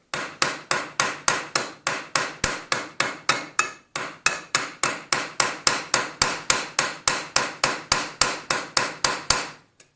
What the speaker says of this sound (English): using the ball peen hammer and not hitting your fingers